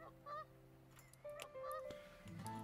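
Geese honk repeatedly in the zoo-building video game Let's Build a Zoo, several short nasal calls scattered over soft, steady background game tones, faint and with no talk.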